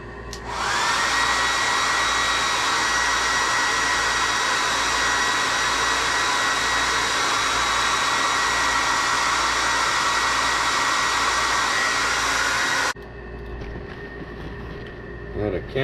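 A loud, steady whirring heat gun, heat-setting paint on a crappie fishing lure in a small barn, runs continuously for about twelve seconds before cutting off abruptly, leaving quiet room noise.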